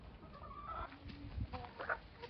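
A rooster with a young hen in a farmyard, soft clucks and low fowl murmurs scattered over a faint, busy background, with a couple of brief louder squawks near the end.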